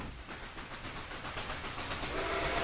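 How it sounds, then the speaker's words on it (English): A large American steam locomotive chuffs in a steady rhythm in thick fog, distant and fairly faint, gradually drawing nearer and louder. "We heard the engine long before we saw it coming."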